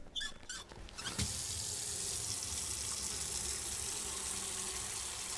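Water from a tap pours steadily into a container during a lung float test in the video game Autopsy Simulator, a continuous faint splashing stream after a few brief clicks at the start.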